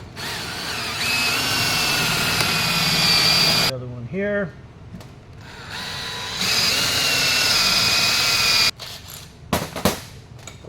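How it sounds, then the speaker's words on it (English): A power drill bores 3/4 inch holes through a boat deck to fit an oval deck plate with large blind fasteners: two long, loud, steady whining runs, with a brief spoken remark in the pause between them. "we're going to drill these 2 holes right here."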